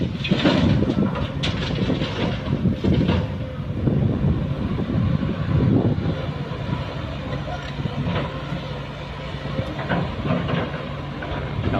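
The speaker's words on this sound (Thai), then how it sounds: "มีลมด้วยครับ" Wind gusts across the microphone beside a fishing pond on a late afternoon, a steady rumbling buffet with some louder bursts, heard throughout with someone talking over it.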